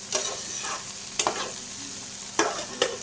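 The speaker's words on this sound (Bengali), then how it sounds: "ধনেপাতাটা দিয়ে আরেকটু ভালো করে ভেজে নেব।" Egg curry (dim bhuna) frying in a pan with chopped coriander stirred in, a steady close sizzle broken by several scraping spatula strokes.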